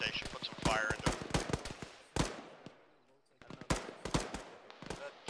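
Sharp bursts of rifle and automatic gunfire from a fire team in a military combat game crack out in clusters, overlapped by radio voices talking.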